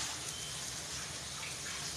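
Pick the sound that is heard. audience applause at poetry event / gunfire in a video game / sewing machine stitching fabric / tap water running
tap water running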